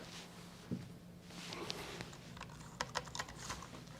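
Typing on a computer keyboard, soft uneven key clicks at close range, building into a brisk cluster of taps near the end, with no voices.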